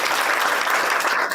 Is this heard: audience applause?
yes